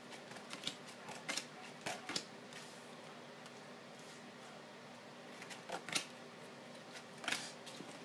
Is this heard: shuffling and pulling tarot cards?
yes